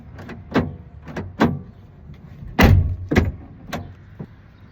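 Rear door on a Ford F350 extended cab swung open and shut repeatedly, giving a series of sharp nearby latch clunks and thuds, with one heavier slam in the middle and quieter handling noises between the hits.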